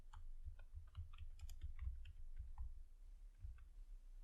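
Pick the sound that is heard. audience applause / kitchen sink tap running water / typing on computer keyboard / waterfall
typing on computer keyboard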